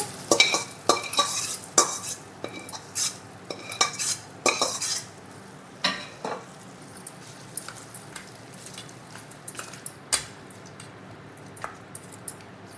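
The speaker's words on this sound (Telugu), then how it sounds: "ఇప్పుడు పోపుని పొంగూర పచ్చళ్ళు వేసుకొని కలుపుకోవాలి" A spoon scrapes and clinks against a metal bowl while thick gongura chutney is stirred with tempering, quick clattering strokes at first that thin out into occasional taps.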